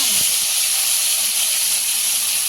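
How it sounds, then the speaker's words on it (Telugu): Tomatoes fry in hot oil in a pan with a loud, steady, close hiss that carries on without a break for the whole stretch. "2 టమాటాలు కట్ చేసి పెట్టుకున్నాం కదా, అది వేసుకొని కొంచెం ఫ్రై చేసుకున్నామండి"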